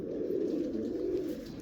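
A prized breeder's pigeon coos in a soft, continuous throaty burble, close and alone, with no other sounds over it.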